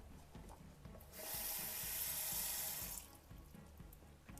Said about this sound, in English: So I'm going to put this in some cold water here.